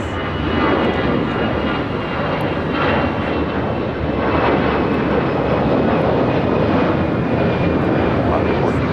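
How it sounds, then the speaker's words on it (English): An American Airlines Airbus A319 takes off from LAX with a loud, continuous jet-engine roar that holds steady throughout, with faint voices mixed in. "This is American Airlines 2546 taking off to Mexico City on an A319."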